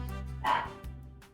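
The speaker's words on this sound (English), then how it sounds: "Please excuse my dog." A dog barks once, fairly close and loud, reacting to someone in a garage, then gives a softer yip or whine against a quiet indoor background.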